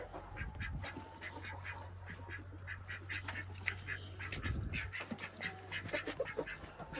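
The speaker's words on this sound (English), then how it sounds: "Oh, there's one duck inside there." A duck shut inside a small farm enclosure in Canada gives faint, repeated quacks in a quiet setting, with a low hum running underneath for several seconds.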